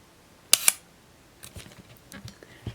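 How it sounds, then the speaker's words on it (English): A Rollei 35 film camera shutter fires at 1/8 second: two crisp, close clicks a fraction of a second apart, followed by faint handling noises. "We can tell on these really slow shutter speeds, it's sounding very good."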